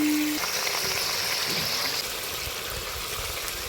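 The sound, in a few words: frying ginger paste with ground spices in pan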